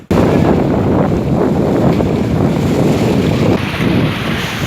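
Sea waves wash ashore at the Kendirli seashore under strong wind that buffets the microphone. The roar is loud, continuous and broadband, with the surf dropping slightly in the last second.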